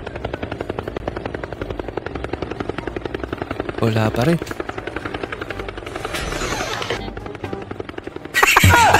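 Helicopter rotor chop thudding in a steady rhythm throughout, moderately loud, with a person talking over it and a few louder bursts of other noise.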